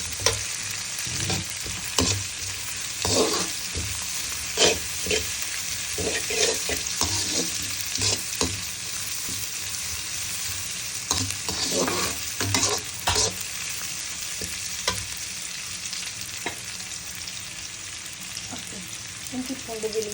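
Ginger garlic paste frying in hot oil with dried red chillies for a Tamil-style chicken black pepper fry, sizzling steadily while being stirred in repeated scraping strokes, close and continuous throughout.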